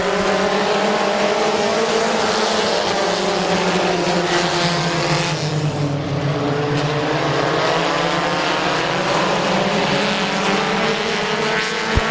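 Race cars at Midvale Speedway roar steadily through a lap in a green-flag dirt oval race, several engines overlapping in a loud, continuous drone with pitch sweeping as cars pass close by.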